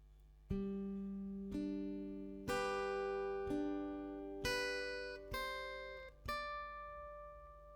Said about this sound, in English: So the C part will sound like this slowly.